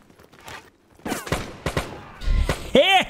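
Musket volley in the Bannerlord Guns & Powder mod: a few sharp gunshot cracks at intervals, then louder overlapping bangs and a shouted voice near the end, moderately loud and fairly close.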